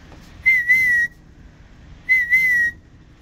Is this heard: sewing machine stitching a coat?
no